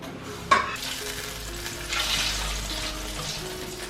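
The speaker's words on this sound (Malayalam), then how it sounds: "ആദ്യം തന്നെ ഇതിലേക്ക് നമ്മൾ കുറച്ച് ബട്ടർ ഇടാൻ പോവാണ്." Butter melts and sizzles in a hot pot at the start of a Dindigul Thalappakatti chicken biryani, a steady close frying hiss after a sharp clink from the pot, with no talking.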